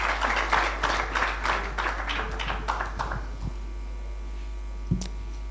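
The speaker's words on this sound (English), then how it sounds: "Another round of applause if you've been enjoying the program." Audience applause at a law-school career program held in a church hall, a brisk patter of clapping from a modest crowd that thins out and stops after about three seconds, over a steady electrical hum.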